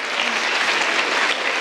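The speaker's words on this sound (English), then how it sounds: "Can we keep that round of applause for the wonderful Jamie Gallagher" An audience applauding at a live science show, with dense, even clapping close by throughout a short burst.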